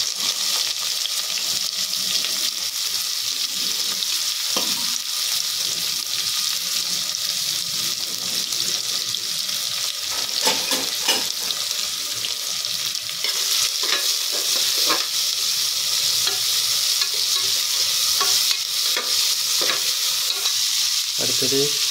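Chopped onions sizzle and fry in a pan of hot oil already holding mustard seeds and chana dal; steady frying hiss with occasional stirring scrapes, close and continuous.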